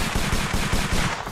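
Rapid automatic gunfire from a weapon in the Roblox video game, a dense, loud burst of repeated shots with no pauses.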